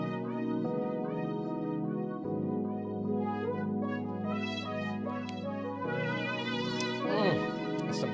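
Electric piano, a sustained pad and a lead synth play together in a lush electronic arrangement with shifting chords and a wavering melodic lead over about eight seconds, with no talking.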